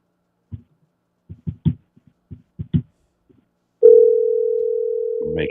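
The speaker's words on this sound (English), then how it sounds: "Making an outbound call, you can hear that as well." An outbound call on a desktop business phone system gives a few soft clicks, then a loud, steady dial tone that holds for the last couple of seconds.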